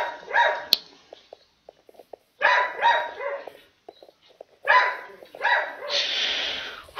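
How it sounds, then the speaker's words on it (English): Several dogs bark indoors in loud, close bursts of repeated barks separated by short quiet gaps, with a longer, harsher bout near the end. "Sorry about the dogs, guys."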